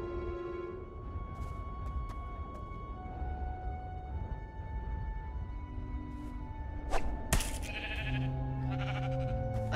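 Sheep bleating in the video game Minecraft Story Mode, several wavering bleats scattered across a steady game soundscape with a brief swish near the end, fairly close and clear.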